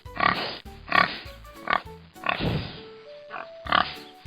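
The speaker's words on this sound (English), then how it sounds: "Pigs say oink, oink." Piglike oinking and grunting from a pig, five or six short loud bursts in an uneven rhythm, close and clear, with no talking over them.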